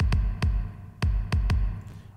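A synthwave kick drum made in FL Studio and drenched in heavy reverb thumps five times in an uneven rhythm, each deep hit trailing into a booming wash, loud and alone.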